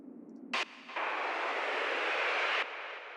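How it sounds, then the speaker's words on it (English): A riser effect in a tech house track: after a brief sharp hit, a broad noise sweep swells and sustains for about two seconds before cutting off abruptly, fairly quiet and without voices. "And of course, all the typical risers you would expect in any house track."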